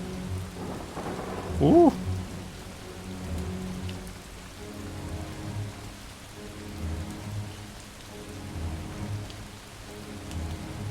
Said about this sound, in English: Is it gonna stop raining soon, or?